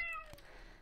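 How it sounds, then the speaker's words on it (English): A cartoonish cat meows once in an indie video game, a short clear falling cry followed by a faint click and quiet game ambience. "There's a cat."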